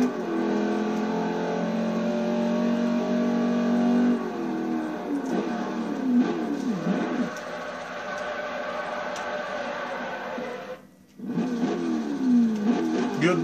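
A racing car engine in Forza Motorsport 4 revs and roars continuously, pitch climbing through gear shifts, with a brief drop before it surges again.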